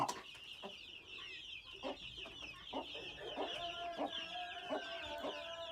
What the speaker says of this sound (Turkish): Dört tavuğun altından çıkan civcivler bunlar.